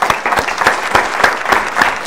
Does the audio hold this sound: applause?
yes